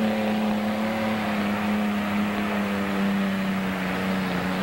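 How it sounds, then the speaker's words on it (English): A 1948 Dodge Power Wagon with a six-cylinder engine runs at a mud race, a steady loud droning engine note with strong low harmonics holding constant throughout. "Look at this, a 6-cylinder, a 46, or rather a 48 Dodge Power Wagon."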